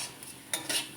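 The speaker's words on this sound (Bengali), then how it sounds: "ঘি দিয়ে এবার চালগুলো ভেজে নেব" Gobindobhog rice being stirred and fried in ghee in a pan, with a utensil scraping and clinking against the metal in quick close strokes alongside a faint sizzle.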